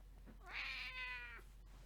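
A cat lets out a single clear, drawn-out meow, close but soft, against a quiet low hum, with no talking.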